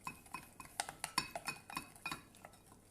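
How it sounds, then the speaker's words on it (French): Homemade paint paste made with salt and lukewarm water is stirred in a bowl, a quick, rhythmic series of close clinks and scrapes as the utensil strikes the sides. "Et on remue le tout."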